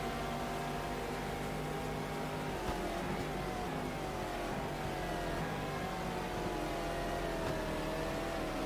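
Race car engines in an ALMS sports car racing video game drone and whine continuously, with steady rising and falling engine pitch at a moderate level and no voices.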